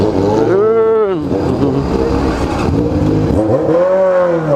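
A remapped Honda Hornet motorcycle engine revs hard twice, close and loud, each time swelling and falling away, with people talking over it throughout.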